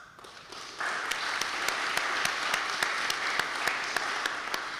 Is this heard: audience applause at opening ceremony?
yes